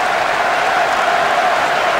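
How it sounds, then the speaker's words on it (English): Steady roar of a capacity stadium crowd cheering a goal in the PS2 football game Winning Eleven 10, during an Ethiopia versus Kenya match: loud, continuous and even throughout, with no pauses. "The capacity crowd are enjoying the goal celebration."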